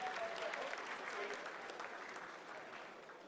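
Sustained applause fills the ISRO mission control room as Chandrayaan-3 enters its vertical descent phase toward the lunar landing, a dense, steady clapping that holds loud throughout, with crowd noise and some voices underneath.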